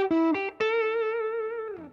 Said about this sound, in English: That is the guitar through the Klon clone and with a little bit of amp reverb on.